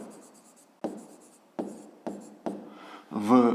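A pen writes on paper in short bursts of scratching strokes, each starting with a tap, close and clear, during a 5th grade math exercise on tile area.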